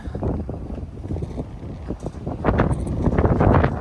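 Gusty wind buffets the microphone with low rumbling blasts that swell louder toward the end, with no speech over it.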